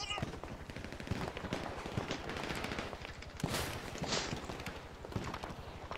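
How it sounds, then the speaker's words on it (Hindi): GTA 5 gameplay gunfire crackles as a fast, continuous stream of shots with a couple of louder bursts, heard quietly under someone talking. "सामने से कोई फायर कर रहा"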